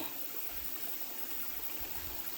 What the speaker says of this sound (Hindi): हमको जो दिखा वो ये है कि ऊपर एक झरना है छोटा सा